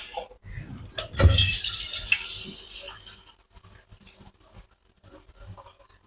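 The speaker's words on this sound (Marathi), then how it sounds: "त्याच्यामध्ये ओतलं आपण पाणी." Water pours into a large pot of soaking sago pearls in a short splashing burst, then trails off into quieter drips and small clinks in a home kitchen.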